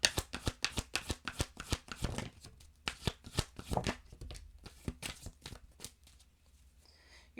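Oracle cards being shuffled by hand in a quick run of crisp riffling snaps and slaps, close and distinct, slowing to a few scattered flicks near the end, with no speech.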